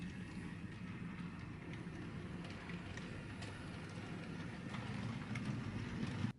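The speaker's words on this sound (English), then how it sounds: "if I turn the controller, then the train departs" A small model train rumbles steadily along its track close by, a continuous whirring roll with faint clicking that grows slightly louder before stopping abruptly.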